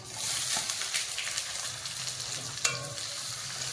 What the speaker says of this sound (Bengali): পেঁয়াজকে লাল করে খুব ভালো করে ভেজে নেবো